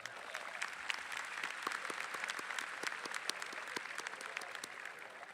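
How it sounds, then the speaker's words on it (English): A graduation audience at Shadow Creek High School's 2023 ceremony applauds its district leaders with dense, steady clapping that holds an even level for several seconds, with no talking over it. "give these district leaders a round of applause"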